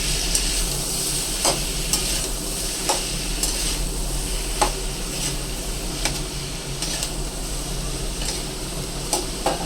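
Mixed vegetables with beans and carrots are stirred in a hot pan for a Kolhapuri veg curry, giving a steady sizzle with repeated sharp scrapes of the spoon against the pan at irregular intervals, close and alone with no talk.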